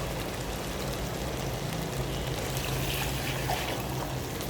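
Water pours steadily into a cooking pot of browned chicken for a white shahi chicken pulao, a dense, even splashing rush heard close up and alone, with no voices over it.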